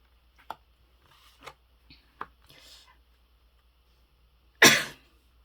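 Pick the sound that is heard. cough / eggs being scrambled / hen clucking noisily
cough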